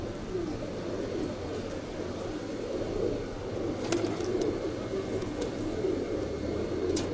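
Pigeons in a loft or release setting coo steadily, a low continuous murmur of many birds close by with a few brief higher chirps, alone without voices.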